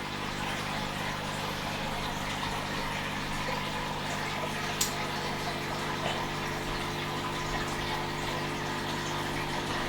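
An aquarium pump runs a 3-foot sump in a home fish room, giving a steady, continuous rush of flowing water over a constant low electrical hum, with no pauses throughout.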